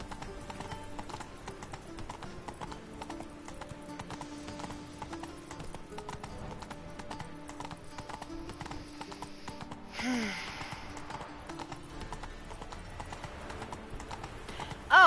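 Steady rhythmic clip-clop of horse hooves in the video game Witcher 3, continuous and fairly faint, with a brief louder swell partway through.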